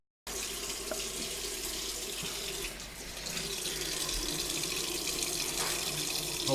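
Tap water running steadily into a kitchen sink, a continuous near splash and hiss from start to finish with no talking.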